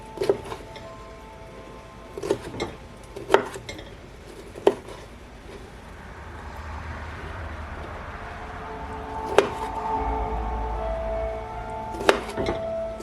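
Sweet pickles being chopped into chunks by hand, a handful of sharp knife strikes on a board spread across the stretch with quiet gaps between them, alongside faint kitchen clatter.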